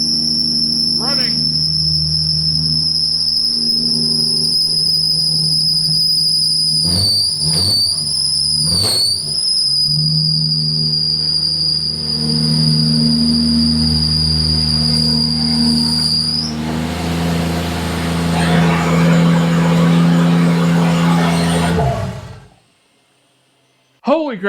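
A swapped 2JZ engine in a 1978 Datsun 280z idles steady and high up close, a constant droning hum topped by a thin, sustained whine that wavers briefly before the sound cuts off.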